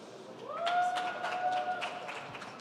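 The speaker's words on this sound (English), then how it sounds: "Please give a round of applause for Aaron." An audience at a Web3 talk applauds a speaker arriving on stage, light scattered clapping at moderate distance alongside a brief rising electronic tone.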